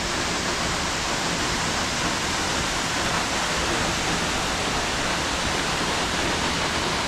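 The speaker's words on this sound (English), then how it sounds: "I don't know if you can hear me or if you can hear how loud the waterfall is" A loud waterfall at Silver Falls State Park, Oregon, in autumn, with a steady, dense roar of crashing water that fills the whole scene without pause.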